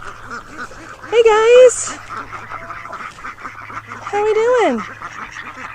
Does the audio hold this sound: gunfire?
no